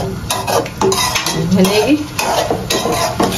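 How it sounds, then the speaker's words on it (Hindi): Aloo gobi stirred with a spoon in a pan, a steady run of scraping, clinking strokes over a soft sizzle, close and fairly loud with no talking. "सीधे चम्मच से चलाएंगे"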